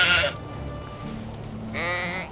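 Goat bleating in the farming game Medieval Dynasty: one short, bright bleat at the start, then quiet, then a second longer, wavering bleat near the end, both close and clear.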